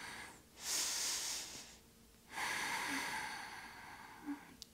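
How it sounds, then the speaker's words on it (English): During a morning full-body yoga stretch with a big chest opener, a person takes slow, deep breaths: two long, airy, hissing breaths separated by a pause, quiet and close. "Breathe deep here."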